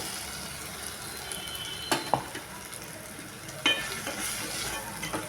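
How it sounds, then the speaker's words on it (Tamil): Ground tomato-onion paste sautéing in a pan for mutton white kurma, a steady sizzle under several spoon scrapes and knocks against the pan, close and moderately loud. "நல்லா வதக்கிக்கலாம்"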